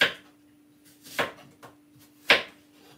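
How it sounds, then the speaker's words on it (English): A green apple is being cut up on a board, giving three sharp, separate chopping knocks spaced about a second apart, fairly close and with no talking. "cut up your apple into the blender"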